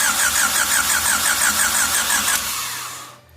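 A Honda Civic EF engine cranks loudly and close by in a rapid, rhythmic starter whir on a first start attempt, then winds down and stops without catching.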